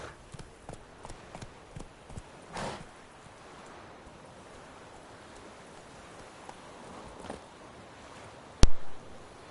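Hooves of Roach, the horse in The Witcher 3 video game, clip-clopping in a light irregular trot, fairly faint over a soft rain-like ambience, ending with a sharp loud knock.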